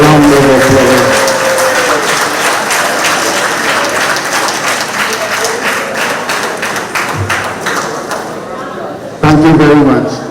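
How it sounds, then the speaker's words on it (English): Members at a monthly meeting of a retired persons' association applaud a birthday girl, clapping spread through the room under a speaking voice and scattered chatter, with a loud burst of voices near the end. "So let's give her a round of applause."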